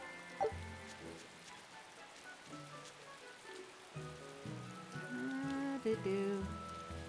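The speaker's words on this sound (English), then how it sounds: "so it just rains a lot" Steady, quiet rainfall in the video game Tales of Berseria, a soft continuous patter under game music with no voices.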